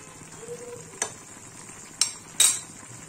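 A pot of bitter vegetable curry simmers with ghee, giving a soft steady bubbling hiss broken by three sharp clinks of a spoon against the pot, close and fairly quiet, with no voices.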